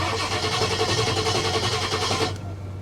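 Diesel engine of a vehicle at a Copart auction yard, out of diesel fuel and listed as a non-runner, chugging steadily at a low idle with a buzzy rattle before cutting off near the end.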